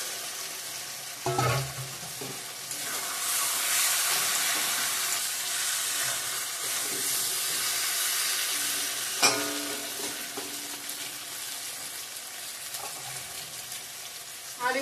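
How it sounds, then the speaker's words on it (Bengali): Pre-fried potatoes go into hot oil in a pan of chicken curry, setting off a steady, close sizzle with brief stirring clatters and a couple of louder splashes, no one speaking. "তেল বেরিয়ে গিয়েছে, ভেজে রাখা আলুগুলো দিয়ে দিব।"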